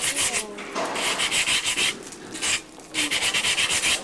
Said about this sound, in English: Just getting those edges sanded a little bit